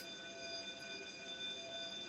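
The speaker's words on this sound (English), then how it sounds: "Excuse the fire alarm." An office building fire alarm sounds during a routine Monday test, a steady continuous electronic tone held at an even level, moderately distant with no talk over it.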